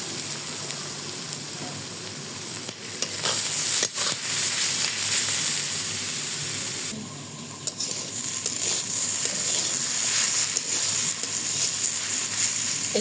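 Shredded potatoes frying in a pan on a stove give a steady, loud, close sizzle throughout, with occasional scraping stirs and a brief dip in intensity midway.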